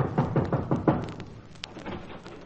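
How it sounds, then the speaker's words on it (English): Knocking on an office door as a radio show sound effect: a run of five firm, evenly spaced raps, close and fairly loud, followed by a quieter stretch of faint rustle. "I went up to an office one day and knocked at the door."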